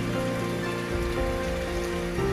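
Continuous rain falling on a surface, an even wash of drops mixed with soft background music.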